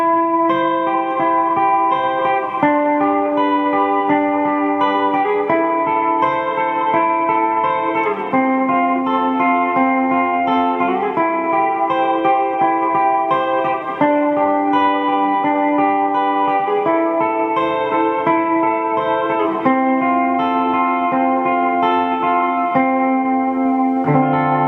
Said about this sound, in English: I'll pick a little tiny something here for you to hear just some clean notes.